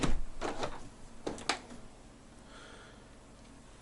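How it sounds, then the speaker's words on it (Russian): A window in a frame house being shut, with a few close scraping, sliding knocks and a final thump, after which only a faint room hush remains. "Сейчас я закрою окно."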